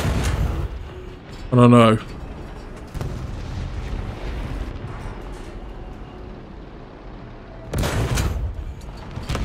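A tank cannon in a tank combat game fires twice, each a loud, booming blast several seconds apart, over steady engine and battlefield rumble, with a brief spoken remark in between.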